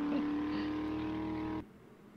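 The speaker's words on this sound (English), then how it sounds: "See, like, the car is vibrating, but my character model is also vibrating." A vehicle in 7 Days to Die hums and rattles with a steady, tonal engine drone that cuts off abruptly after about a second and a half, leaving quiet background.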